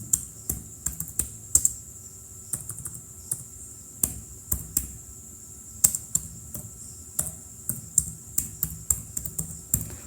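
Typing on a computer keyboard while working in Excel: steady, close clicking of keys in irregular quick runs with brief pauses, with no talk over it.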